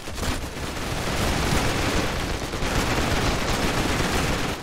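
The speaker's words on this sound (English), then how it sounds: "And I'm just gonna get ready to shoot." Sustained automatic gunfire from the video game Ravenfield, dense rapid bursts rattling loudly and continuously throughout with no talking.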